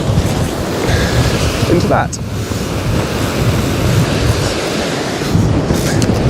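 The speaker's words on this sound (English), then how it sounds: "that surf running right to left here" Steady wash of sea surf breaking on a beach, white water running right to left, with wind buffeting the microphone throughout and a brief voice partway through.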